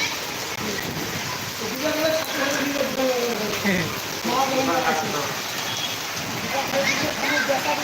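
Heavy rain floods a street, pouring steadily in a dense hiss, with voices talking intermittently over the downpour.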